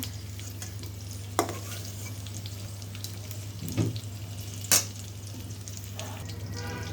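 Cauliflower and potato bhaji frying in plenty of oil, a continuous close sizzle broken by a few clinks and scrapes of a spatula against the pan.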